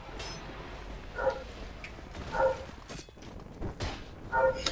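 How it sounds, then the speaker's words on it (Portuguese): A dog gives single spaced barks, three or so evenly separated yips a little over a second apart, fairly close, with faint shuffling noise between them. "O Júlio tá latindo"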